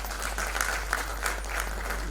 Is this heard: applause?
yes